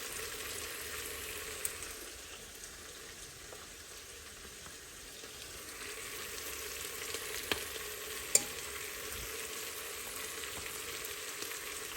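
Ground roasted chilli sizzles and fries in a hot spice base as meat cooks, a steady soft crackle continuing close by with occasional sharper pops and faint stirring clatter, no voices.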